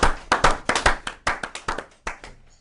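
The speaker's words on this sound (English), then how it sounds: "Even got John clapping." A single person claps in a studio, about a dozen sharp, close hand claps in a loose, slightly uneven rhythm, loud and alone before trailing off.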